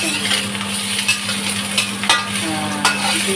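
Beef stew sizzling and frying in a pan as ginger and garlic go in, with steady crackle and a few stirring scrapes of a utensil close by, no talking.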